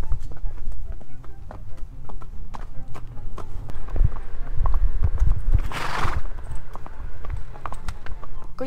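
A herd of horses is led to winter pasture, hooves clip-clopping in an uneven, overlapping rhythm close by, with a brief whinny partway through.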